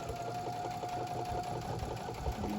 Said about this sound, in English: I'm going to sew the other one